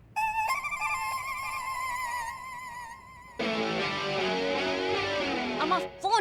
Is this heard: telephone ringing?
yes